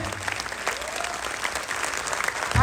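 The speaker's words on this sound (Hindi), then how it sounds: "तो हाथ ऊपर करके दिखाओ कैसे ताली बजाते हैं" Audience at a business plan presentation claps together, a brief dense burst of hand clapping that carries on steadily, with a louder thump near the end.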